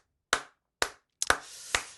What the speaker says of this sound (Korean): 박수 드릴게요